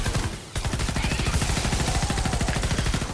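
A weapon in Fortnite Save the World fires in a steady, rapid automatic stream after a brief pause, sharp repeated shots close and loud.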